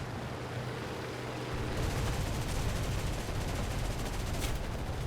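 Bf 109 K-4 fighter guns firing in War Thunder, a dense continuous rattle of rapid shots starting after a quieter engine drone, sustained and loud over a steady aircraft hum.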